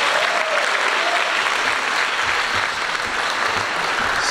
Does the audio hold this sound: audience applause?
yes